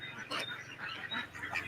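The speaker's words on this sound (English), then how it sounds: "Ducks are noisy." Ducks quacking and honking in a noisy, overlapping run of calls, fairly close and steady throughout, with no talking.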